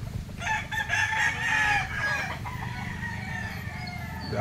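Roosters crow repeatedly at early morning beside the sea in a rural province where many chickens are kept. One loud, near crow rings out early, followed by fainter clucking and distant crows over steady background noise.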